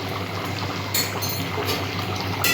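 Curry simmering in a pot after a spoonful of roasted spice goes in, the dish an elephant-foot yam and prawn curry; a steady soft bubbling hiss runs throughout with occasional brighter sizzling bursts, close by and no talk.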